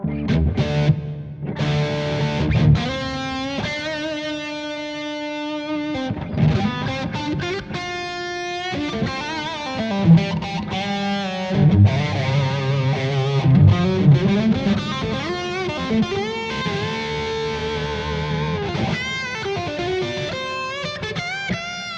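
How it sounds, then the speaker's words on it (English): Electric guitar chords and melodic runs ring out with a swirling chorus and a roomy reverb tail, moderately loud and continuous. "Let's add a little bit of reverb to it."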